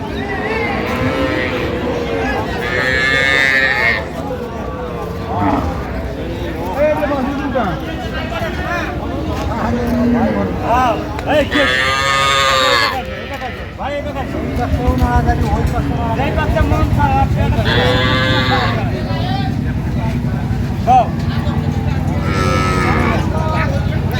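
Cows and calves low repeatedly at the crowded Ambari cattle market, several loud moos rising over steady crowd babble and people talking throughout.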